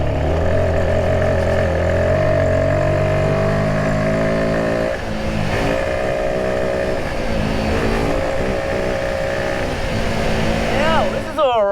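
A 2024 Royal Enfield Himalayan 450 motorcycle engine drones loudly and continuously while riding over rough, choppy ground, its pitch rising and falling with the throttle, with a rider's voice talking over it.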